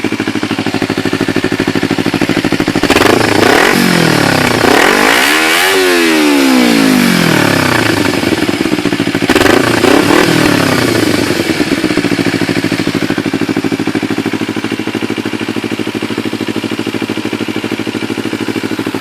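A 2012 Kawasaki Ninja 250 with a Leo Vince GP Corsa slip-on exhaust, baffle installed, close and loud: steady idle broken by two sharp throttle revs that climb and fall back, then idling again.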